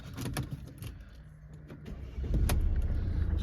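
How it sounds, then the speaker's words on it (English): A Mercedes-Benz C220 BlueTEC Sport 2.1 with G-Tronic+ gearbox starts up. Faint clicks and cabin sounds come first, then the engine catches about two-thirds of the way in and settles into a steady, loud low rumble. "So I'll just start the car up"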